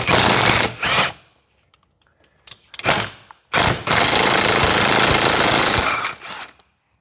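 An air impact gun rattles on a 13mm bolt at a Ford Fiesta rear axle, loud and close in several bursts: two short hits, a couple of brief blips, then a long sustained hammering run before stopping.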